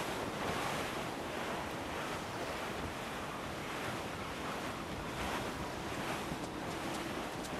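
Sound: wind and ocean waves while sailing in the video game Assassin's Creed Black Flag

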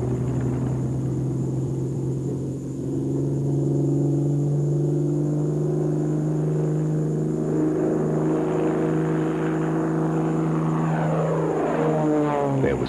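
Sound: Focke-Wulf 190 prototype fighter aircraft taxiing, propeller engine

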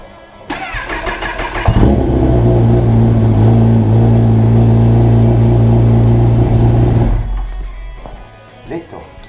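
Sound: car engine starting and running

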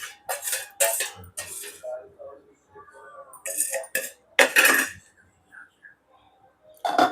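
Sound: lid being put on a cooking pan

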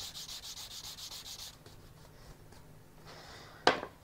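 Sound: sanding wood with 240 grit sandpaper

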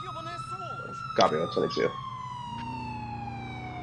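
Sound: ambulance siren in GTA IV LCPDFR police mod video game

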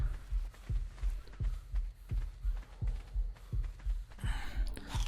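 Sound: heartbeat sound in the video game Ark (Dreadful Reaper mod)

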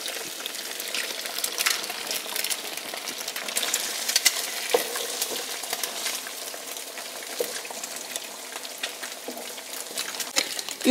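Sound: eggs frying in bacon drippings

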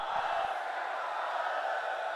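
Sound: crowd chanting slogans in response at a political rally

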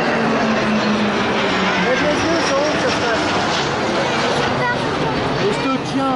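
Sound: Alpha Jet training aircraft flyover

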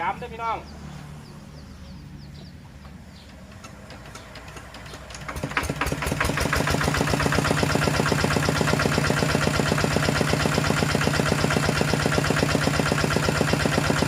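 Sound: RT100 engine running and being revved

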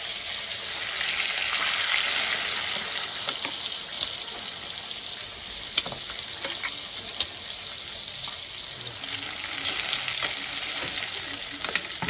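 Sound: frying fish pieces in oil

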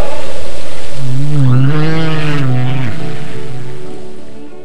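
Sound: humpback whale song

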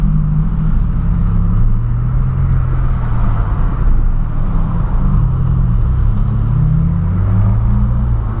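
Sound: car passing on the highway

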